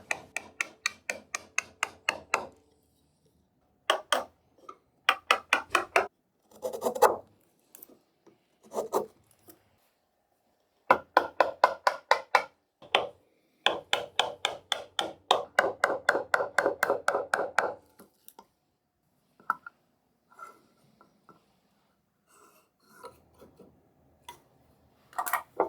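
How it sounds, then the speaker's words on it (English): Hand chisels pare and scrape a solid maple workbench top in repeated short bursts of rasping strokes, each cluster made of quick scratchy passes, separated by brief pauses and a few isolated knocks, close up with no talking. "I will use chisels to clean everything up though."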